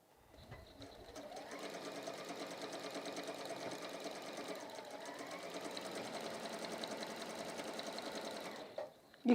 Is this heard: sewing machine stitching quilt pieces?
yes